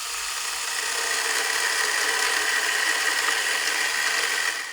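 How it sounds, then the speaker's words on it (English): A high-pitched Makita UC100D 12V cordless pruning chainsaw whines steadily as it bites through an 80 mm hardwood trunk, a continuous buzzing cut with no talking. "the chainsaw definitely has to put up a fight here"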